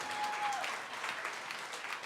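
An audience at a live conversation event applauds, steady mid-level clapping from many hands filling the room throughout.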